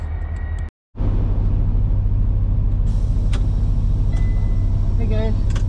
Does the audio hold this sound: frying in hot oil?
no